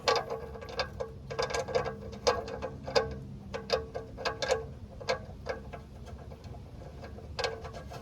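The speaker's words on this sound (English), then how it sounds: "I'm just going to set the torque wrench to 19 or 20. And then I'll go underneath and I'll tighten it up." A torque wrench tightens the oil drain plug on a Ford F350 during an oil change, making close, irregular bursts of light ratcheting clicks with brief gaps between strokes, with no talking.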